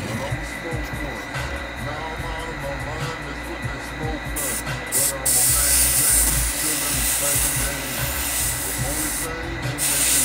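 A steady, loud hiss of steam from a steamer runs continuously while the creased toe box of a sneaker is being steamed to remove creasing, with a slight surge partway through.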